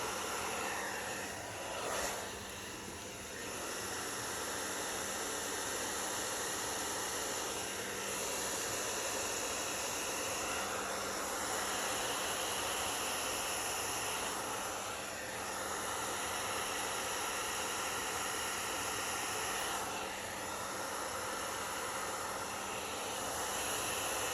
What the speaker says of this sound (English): This is the first time I'm using hair dryer for this technique.